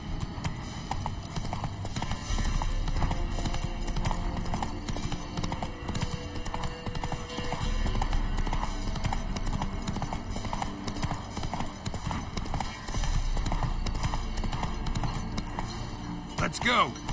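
Roach, a horse in a video game, gallops in a fast, steady clip-clop of hooves that runs throughout, with game sounds and a voice speaking over it.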